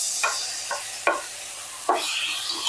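Tomatoes fry in hot oil for a paneer curry while a spoon stirs them. Four quick scraping strokes cut through a continuous sizzle, loud and close.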